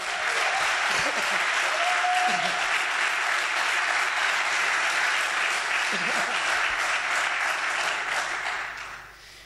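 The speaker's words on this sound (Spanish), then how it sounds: "Denle un aplauso al Señor." Church congregation applauding during a Spanish-language service, a long sustained burst of clapping at steady volume with a few raised voices and cheers mixed in, fading out at the end.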